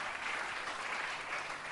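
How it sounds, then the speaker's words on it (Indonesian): A church congregation at a fasting prayer service claps, a dense, steady wash of many hands applauding together from a moderate distance, continuing evenly without voices on top. "Yang mengerti, tepuk tangan bagi Tuhan."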